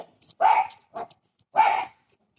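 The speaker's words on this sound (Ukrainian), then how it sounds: "що ти гавкаєш?" A dog at a village home gives three short barks, two strong ones with a smaller yip between, close by, with silence around them.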